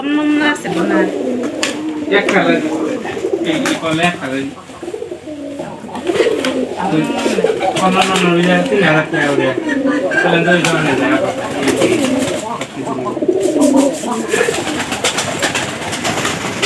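Pigeons released inside a net enclosure coo continuously in a dense, close chorus, while someone talks over the birds throughout.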